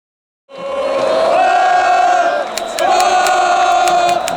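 Santos football fans chant in unison inside the Pacaembu stadium in São Paulo, a loud sustained crowd song that swells after a brief pause and carries on, with sharp claps or bangs cutting through midway.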